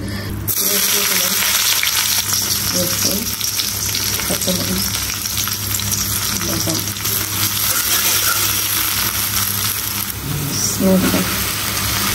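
Three chilies fry in hot oil in a pan for a home-cooked greens dish, giving a loud, steady sizzle that runs the whole time, with a few faint stirring clinks.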